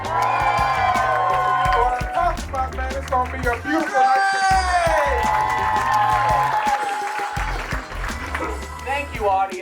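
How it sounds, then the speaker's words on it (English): A comedy club audience claps and cheers for a comedian, with a dense, steady wash of clapping, whoops and crowd noise that stays loud and continuous throughout. "Thank you for that medium amount of applause."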